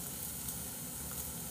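Food frying in a pan gives a steady, soft, continuous sizzle with no pauses.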